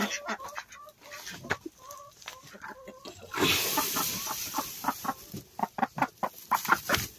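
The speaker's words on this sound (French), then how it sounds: "Alors là il y a une poule sur les œufs" A hen sitting on eggs clucks repeatedly at close range, a steady run of short, throaty clucks with a few softer calls, growing louder toward the end.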